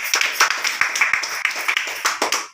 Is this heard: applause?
yes